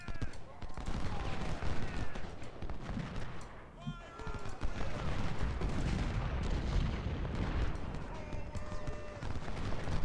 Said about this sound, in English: I'm gonna direct all of our artillery to fire on Parrott's brigade here, and try to just bust that up.